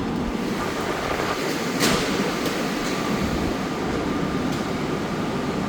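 A Doha metro train in Qatar, heard as a continuous rumbling hum of rail travel with faint rattles, steady and close throughout without speech.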